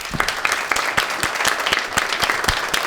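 A studio audience on a Turkish talk show gives a brief round of applause, steady dense clapping at a moderate level with sharper individual claps standing out.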